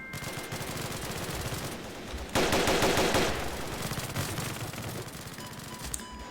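Rapid, continuous automatic gunfire from a heavier gun in a Roblox Squid Game battle, a dense rattling stream that grows louder partway through, with no talk.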